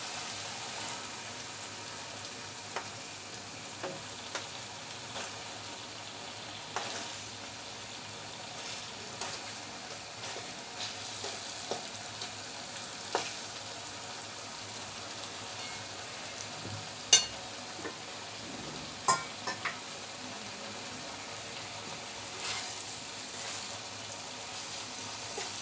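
An egg frying in a pan over a potato filling, a soft steady sizzle with scattered small pops and crackles, faint and alone.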